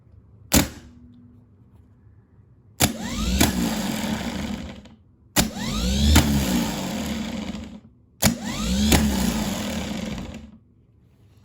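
A car starter motor bench tested with a wire touched to its terminal, engaging three times with sharp clicks followed by a loud whirring spin lasting about two seconds each, plus an earlier brief snap, with crackling arcing.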